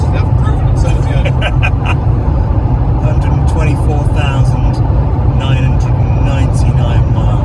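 An electric car nearing 125,000 miles cruises along a motorway, giving a steady, loud cabin and road-noise rumble that holds unbroken throughout, with a person talking over it.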